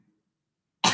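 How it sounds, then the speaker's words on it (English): A single sharp cough bursts out after near silence, close and loud, during a gentle yoga session at work. "That's why I'm coughing right now."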